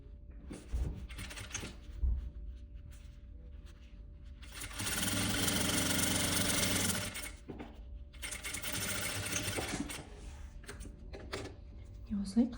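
A sewing machine stitches a pocket onto a boy's vest in two sustained bursts of steady whirring, with quieter handling and a voice talking between the runs.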